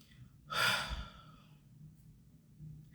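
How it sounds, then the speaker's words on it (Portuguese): A deep breath during a guided emotional release session: a quick, audible inhale-like rush followed by a soft, faint exhale, close and quiet with no words spoken over it. "Inspira e solta."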